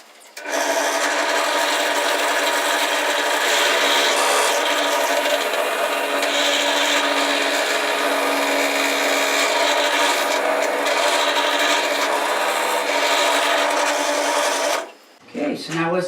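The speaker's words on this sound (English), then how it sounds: "So I'm going to need two holes here. So I'm going to go ahead and drill those." A power drill bores two bolt holes for a lift project, a loud, steady whirring grind lasting about fourteen seconds before cutting off abruptly, followed by a brief clatter.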